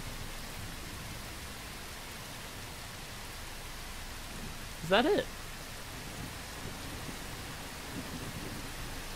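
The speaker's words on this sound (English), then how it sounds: "man, this rain is loud" Steady, loud rain in a video game hisses evenly throughout, with someone briefly talking over it midway.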